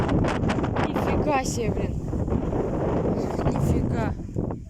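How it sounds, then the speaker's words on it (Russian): Strong wind buffets the microphone in an open field, a loud, continuous roaring gust with rustling, while a person speaks over it. "Такой ветер, это просто не знаю."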